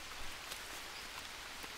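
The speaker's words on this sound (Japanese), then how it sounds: "ちょっとね、雨が降っていてすごい見づらいかもしれないんですけど" Steady rain in the jungle survival game Green Hell hisses evenly throughout, soft and continuous, with faint scattered drop impacts and no voices.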